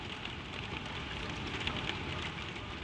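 Rain falls on a tin roof over an attic bedroom as a dense, steady patter and hiss, even and continuous, with no pauses or other sounds.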